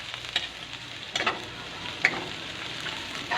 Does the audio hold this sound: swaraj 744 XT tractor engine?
no